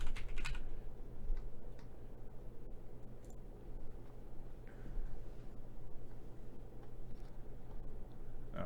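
Rapid, light clicking of keys on a computer keyboard, irregular and continuous at close range, fairly quiet over a low steady room hum.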